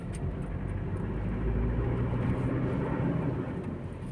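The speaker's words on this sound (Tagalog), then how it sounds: "yung andar ng engine mga master, hindi na fuel lock. Napaka" Toyota Innova 1GD diesel engine idling: a steady, smooth low rumble heard up close, continuous and even throughout with no voices.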